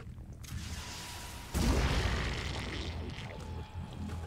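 A grenade blast in the tactical video game Phoenix Point: a sudden loud boom lands about a third of the way in, followed by a long rumbling decay over steady game ambience.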